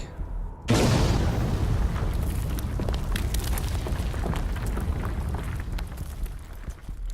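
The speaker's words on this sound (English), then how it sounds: "The grenade explodes, collapsing the tunnel's only entrance" A grenade blast in a tunnel, as an audio drama effect: a sudden heavy boom after a brief quiet, then a long rumbling roar of collapsing rock that slowly thins out.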